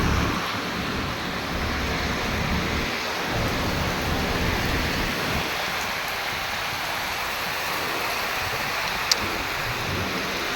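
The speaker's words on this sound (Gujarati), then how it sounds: "જસદણમાં ભારે વરસાદ" A thunderstorm with heavy rain and strong wind in Jasdan roars continuously, with a dense rush of rain and gusting wind throughout and low rumbles underneath.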